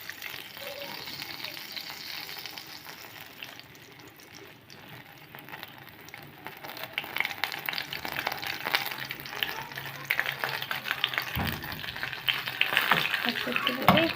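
Ghee heats in a cooking pot, giving off a soft crackling sizzle that grows louder and denser partway through, with brief clatters and faint background voices.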